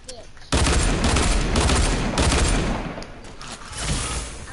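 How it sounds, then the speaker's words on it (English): Game gunfire erupts suddenly and loudly after a brief quiet moment, a sustained dense burst of shots and impacts rolling on for several seconds with slight dips in intensity, likely including a sniper rifle shot. "He sniped me."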